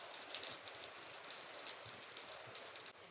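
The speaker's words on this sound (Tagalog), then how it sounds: "Malakas talagang ulan dito sa Bicol." Heavy rain in Bicol pours as a dense, even hiss of drops on a surface, close and unbroken for a few seconds with no talk.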